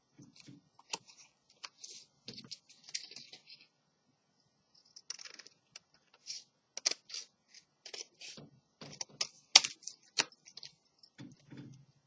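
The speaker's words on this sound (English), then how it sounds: "Cat just hit something on my keyboard." A cat stepping across a computer keyboard, pressing keys in a quiet room: scattered, irregular clicks and taps in short bursts, close and fairly faint, with brief pauses and some soft rustling between them.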